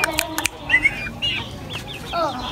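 White aseel chickens and chicks clucking and chirping nearby in a short burst of overlapping calls, with some scuffling and faint background voices.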